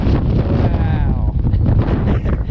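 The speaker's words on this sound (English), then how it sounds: "This wind is so brutal" Strong wind buffeting the microphone on a lake during late-winter bass fishing, a loud continuous rumbling roar with a voice partly audible beneath it.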